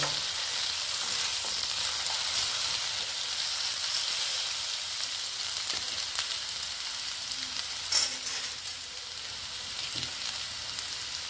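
Steady, continuous sizzling of potatoes frying in hot oil, with occasional faint clicks and stirs, no voices.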